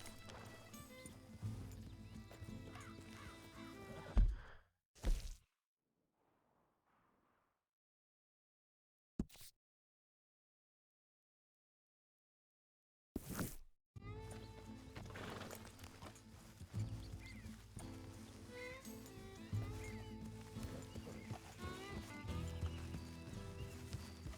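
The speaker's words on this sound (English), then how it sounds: "That's a healthy-looking horse." Horse hooves clop and shuffle alongside snorts and a whinny in Red Dead Redemption 2, over a musical background, interrupted by a long stretch of near silence before the sounds resume.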